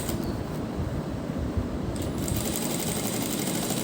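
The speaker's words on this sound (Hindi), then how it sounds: "इस पर हम पैर पैर की सिलाई लगा देंगे।" A sewing machine runs steadily, stitching around a fabric neckline, a continuous close mechanical whirr that holds at an even level from start to finish with no talking.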